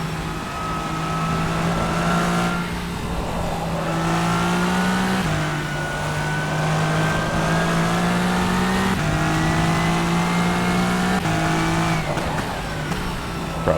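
Le Mans LMD hypercar in the racing game rFactor 2, its engine droning loud and steady with a strong harmonic whine that rises and dips through gear changes and throttle lifts, running continuously with no talk.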